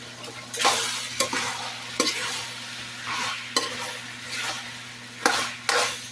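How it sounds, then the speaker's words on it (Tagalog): Butter sizzles in a pan while pork menudo cooks, a steady frying hiss broken by repeated stirring scrapes at irregular intervals. "maglagay ako ng butter"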